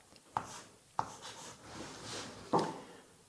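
Pen or marker strokes writing out a math solution for an infinite sum, with a few sharp taps where the tip meets the surface and soft scratching between, close and quiet with no talk.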